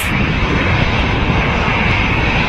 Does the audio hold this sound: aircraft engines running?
yes